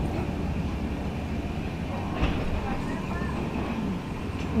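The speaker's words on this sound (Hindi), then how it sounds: "ये अब ट्रेन थोड़ी देर में काकोरी में रुकेगी।" A passenger train runs on its rails near Kakori, giving a steady, fairly loud rumble and rattle throughout, with a voice talking faintly over it.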